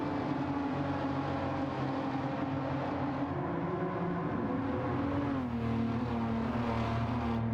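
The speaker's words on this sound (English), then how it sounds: "Beautiful sounding engine on this Beamer." A BMW race car engine in the video game Gran Turismo 7 roars steadily with shifting pitch, its high revving tone sustained and fairly loud, with no talk over it.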